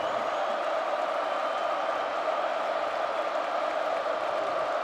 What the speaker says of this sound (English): Crowd making it tough for Kaminsky.